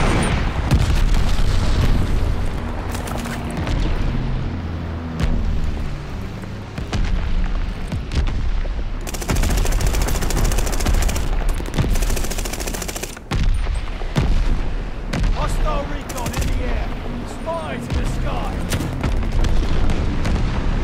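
Bombing run explosions and heavy gunfire in a video game, a continuous loud barrage of booms and rapid shots lasting throughout, with sharp blasts standing out repeatedly.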